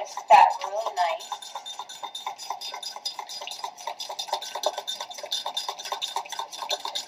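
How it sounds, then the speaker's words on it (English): Yolks and evaporated milk beaten together in a bowl, a quick steady run of light clinking whisk strokes, close and fairly soft throughout. "So whisk that really nice."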